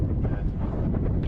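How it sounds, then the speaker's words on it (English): Strong wind buffets the microphone in a continuous loud roar, with gusts rising and falling over the whole stretch. "the wind is strong"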